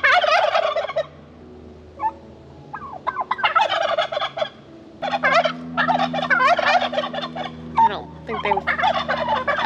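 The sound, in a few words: Black Spanish heritage turkeys gobbling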